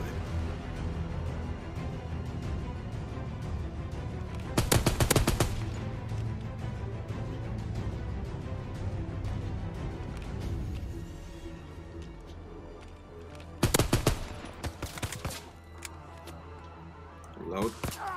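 Call of Duty WW2 gunfire arrives in two short, sharp bursts of rapid shots, separated by about eight seconds, with someone speaking between the bursts.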